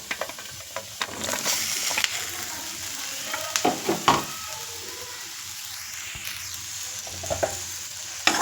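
Okra added to onions fried with turmeric and chilli powder crackles and sizzles in the pan under repeated scraping stirs and small knocks, close and steady, for several seconds.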